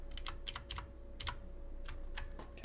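Computer keyboard keys are pressed while working in Blender 2.83, producing a series of quiet, distinct clicks at an uneven rhythm over a faint steady hum.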